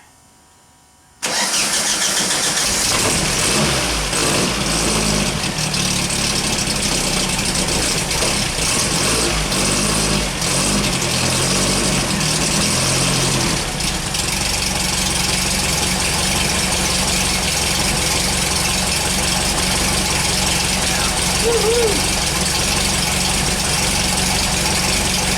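A vintage VW rail buggy engine cranks and catches after a second of quiet, then runs loud and close at a steady idle, its rhythm shifting slightly midway.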